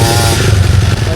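Enduro motorcycle grinding along a muddy dirt road through a cornfield, its engine a loud, steady low drone with clattering texture throughout, close and continuous for the brief moment.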